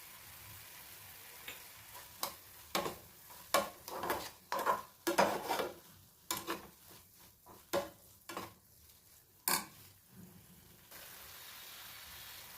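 Sugar and grated fresh coconut are stirred in a pan for coconut barfi, giving a run of scraping, tapping strokes at an uneven rhythm, close and moderately loud, with no talking.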